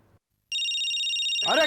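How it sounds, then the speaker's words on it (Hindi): A mobile phone rings on a TV drama set during a take, a loud steady electronic ringtone that starts abruptly after a short silence and keeps going as a voice begins speaking over it. "अरे किसका मोबाइल बज रहा है यार?"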